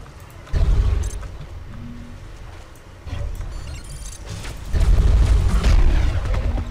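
Several heavy booming blasts of exploding weapon fragments in the video game Advent Rising, loud and close, rumbling in bursts one after another with crackling debris between them.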